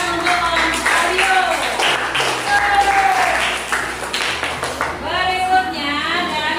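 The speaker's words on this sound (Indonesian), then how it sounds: "mari tepuk tangan untuk kelompok Aryo." Classroom applause for a student group after a presentation, a burst of hand clapping mixed with voices talking over it, fairly close and lively.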